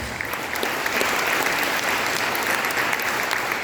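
Steady audience applause at a Council of Elders gathering in Caxhuacan, Puebla, a dense continuous clatter of many hands, loud and close throughout.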